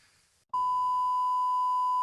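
Dashboard alert in a VW Golf MK5 GTI with the key in the ignition: a single steady electronic tone begins after a short quiet stretch and holds loud and unbroken to the end.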